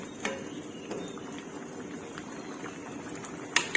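Panang pork curry boiling in a pot over the heat, a soft steady bubbling hiss throughout with a few faint pops and a brief clink near the end.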